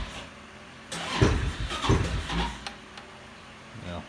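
A go-kart engine cranks and fires after sitting unused for a while, giving two short bursts of starting noise, then settling into a quieter idle nearby.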